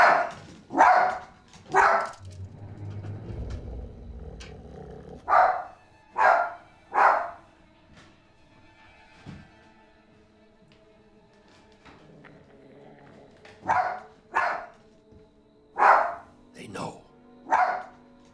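Several dogs bark in sharp repeated bursts at the start and again near the end, close and loud, with someone speaking over a low rumble between the volleys in a tense suburban cul-de-sac scene.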